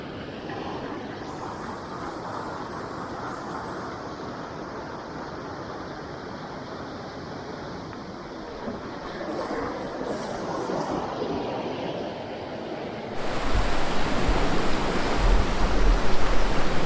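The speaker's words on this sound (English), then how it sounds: "This is the raging Dabka river." Broad, steady roar of the rain-swollen Dabka river in Uttarakhand, rushing water filling the scene with continuous noise that grows louder and closer near the end, no voices.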